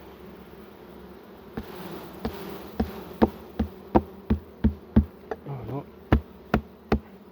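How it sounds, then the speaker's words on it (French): Honeybees buzz steadily around a hive frame as it is tapped to shake them off, giving a series of about a dozen sharp, evenly spaced knocks close by over the humming swarm. "Là, on va taper les abeilles."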